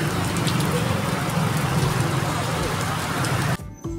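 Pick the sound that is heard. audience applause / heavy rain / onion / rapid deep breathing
heavy rain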